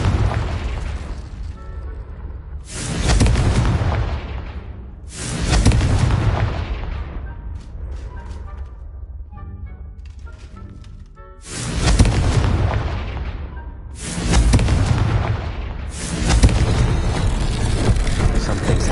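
Repeated Confringo fire-spell blasts from Hogwarts Legacy go off in loud booming bursts, roughly five explosions spaced a few seconds apart. Crackling and rumbling tails sit between them, with no talk over the top.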